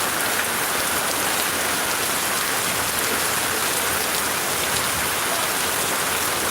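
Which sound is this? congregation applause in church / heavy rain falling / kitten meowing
heavy rain falling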